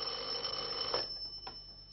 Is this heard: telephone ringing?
yes